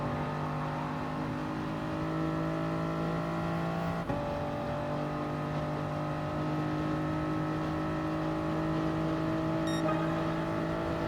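Toyota GR Supra Gr.3 race car in a Gran Turismo Toyota Cup race at Interlagos, a steady sustained engine drone at high revs with a brief shift blip partway through, no talking.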